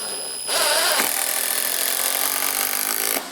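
A SKIL 12-volt impact driver drives a wood screw into framing lumber, a loud continuous buzzing hammer rattle starting after a brief pause and running steadily for nearly three seconds before stopping.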